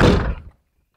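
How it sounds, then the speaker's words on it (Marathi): A door is shut inside a house, making a single solid, close thud that dies away within half a second into silence. "दरवाजा लावून घे."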